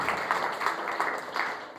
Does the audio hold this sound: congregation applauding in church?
yes